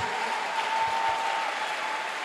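A church congregation applauds during a sermon, a dense, steady burst of clapping from many hands at moderate distance, short and continuous.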